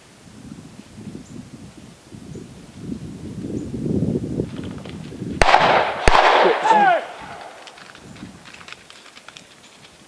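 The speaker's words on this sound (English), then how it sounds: "They shot right at Dad." Gunshots ring out at a public-land deer hunt during the rut: two sharp, loud cracks close together after rustling movement, with excited voices following.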